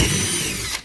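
A power drill fitted with a 1/4 inch bit bores through material for a Thai longtail mud motor handle modification, a brief loud close whine that cuts off sharply just before the end.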